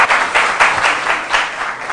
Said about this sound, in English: A round of applause to both teams.